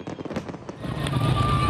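New Year fireworks over the Nile bursting in a dense, continuous volley of crackles and booms, loud and building into a steady roar of explosions.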